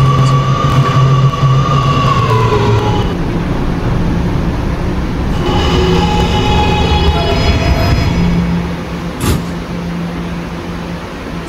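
An R211A subway train runs on an R route in a Roblox train game, giving a loud, steady rumble with a sustained tonal whine throughout and a sharp click near the end.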